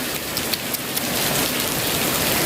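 Heavy rain pours down in a steady, dense hiss in Vientiane, with a few sharper drops landing nearby and no voices.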